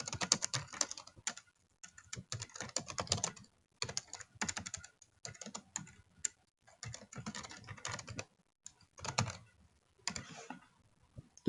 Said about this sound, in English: Here is where you just would type in the description.